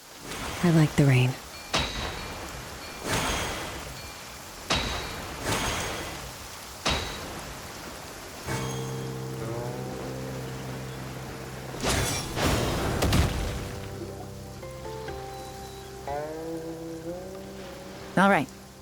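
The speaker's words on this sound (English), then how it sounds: "I like the rain." Rain patters steadily in the video game Genshin Impact, broken by several sharp, loud splashes or crashes, while soft musical tones drift in during the second half.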